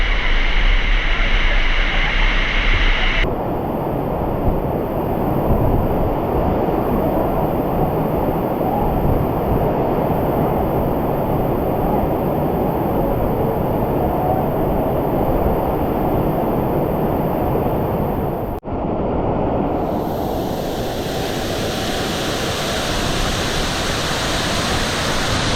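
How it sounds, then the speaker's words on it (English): A waterfall in Bulusan, Sorsogon, Philippines roars as a loud, dense, unbroken wash of rushing water, close and constant throughout, with wind buffeting at the start. "the sound of the waterfall is so shouting, okay? It's screaming."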